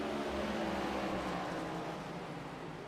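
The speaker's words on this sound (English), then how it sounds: "I'm just going on board with Rusty, and I can hear his tires screaming" Race car tires screaming around the track in the iRacing sim at Phoenix, a steady dense engine drone with a continuous squealing wash held at constant loudness throughout, no voices.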